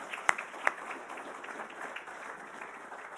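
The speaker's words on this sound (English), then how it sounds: "How about a round of applause for all those that did all the hard work?" An audience at a military history lecture claps for event staff, a brief burst of applause with two sharp louder claps near the start, then a softer, even patter that carries through to the end.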